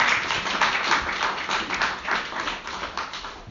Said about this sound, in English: please give it a nice round of applause for Susan.